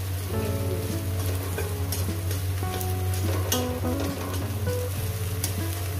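An egg sizzles and fries steadily in a hot pan during the cooking of an egg dish with potato and ridge gourd. The crackle is close and continuous, with light stirring and scraping throughout and no talk.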